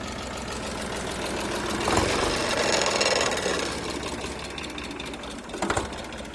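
An Eicher 666 Turbo tractor engine idles with a steady rattling chug, rising slightly in the middle before settling, heard close up just before shutoff.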